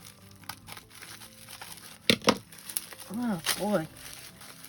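Scissors or a blade cutting through bubble wrap packaging on a tracked priority mail parcel, brief crinkling and crackling snips, close, with a voice speaking briefly.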